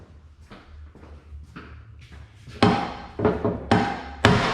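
Heavy hammer blows strike a rusty metal vise during restoration, four loud ringing impacts in the second half, each followed by a decaying clang, after quieter knocking and shuffling early on.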